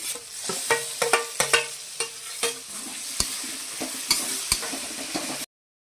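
Chopped tomatoes sautéing in oil with onion and ginger-garlic paste for pav bhaji, a continuous sizzle punctuated by repeated spatula clacks and stirring strokes, ending abruptly in silence.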